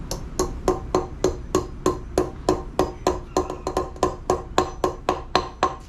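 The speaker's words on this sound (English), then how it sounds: "It really does pain me to hit this with a hammer" A hammer taps bearing races into a boat trailer hub, about twenty sharp metallic strikes in a steady, even rhythm, close and clear with no talk.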